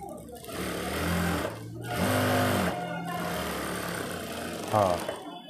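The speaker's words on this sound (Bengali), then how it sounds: "এভাবে লাইলিনটির উপরে কিন্তু সেলাইটি মারছি" A sewing machine stitches over the lining at a neckline, a loud, close, steady whirring hum with slight rises and dips in speed and a brief surge near the end.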